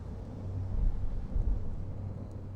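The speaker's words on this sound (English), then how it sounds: "Plus, I like the wind." Outdoor wind at dusk buffeting the microphone, a continuous low rumbling roar that swells and eases without pause.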